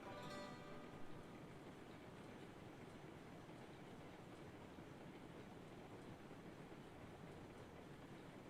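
A train rolls along the rails in a steady, dense rumble that stays level for several seconds, faint overall, with no voices.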